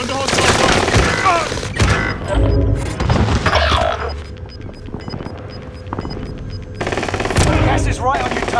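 Heavy machine gun fire rattles in Call of Duty Warzone Pacific Resurgence, with dense automatic bursts, booming impacts and a brief lull, while game voice announcements sound over the action.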